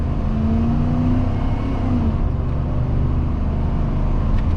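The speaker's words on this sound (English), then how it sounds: "let's actually just stomp on the brakes and do a 0 to 60" A 1994 Dodge RAM 1500 Laramie SLT pickup engine roars loudly under full-throttle 0 to 60 acceleration, a steady heavy rumble with rising tone heard from inside the cab.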